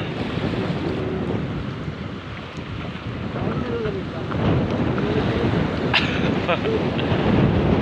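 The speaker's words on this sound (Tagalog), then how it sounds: "Lakas nga naman ng hangin ah." Strong wind roars and buffets the microphone continuously, with a rushing, turbulent noise and faint outdoor sounds beneath it.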